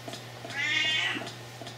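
A Siamese cat lets out a single loud, drawn-out meow lasting about half a second, close to the microphone, over a faint steady indoor hum.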